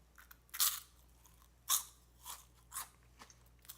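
Crunchy caramel snack from a TokyoTreat box bitten and chewed close up: several crisp crunches at irregular intervals, the first two loudest, then softer chews fading in a quiet room.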